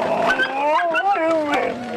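Dogs at a French sled-dog race yip and whine in a rising, wavering chorus, close and fairly loud throughout, with people's voices mixed in.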